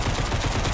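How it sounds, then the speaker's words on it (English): Rapid explosive blasts go off during a multi-blast video shoot, a dense, loud rumbling barrage of bursts packed closely together with no pause. "Explosions."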